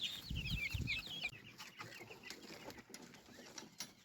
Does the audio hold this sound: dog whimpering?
no